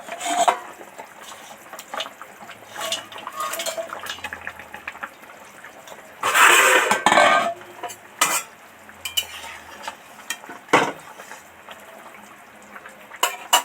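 Hilsa fish goes into a pot of simmering potato curry with utensil scrapes and clinks, a loud burst of bubbling sizzle midway, then intermittent sharp taps of a spoon against the pot.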